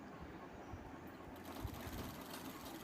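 A sewing machine runs steadily while stitching cloth onto the back part of a blouse with a half-inch seam, giving a quiet, continuous mechanical whir throughout.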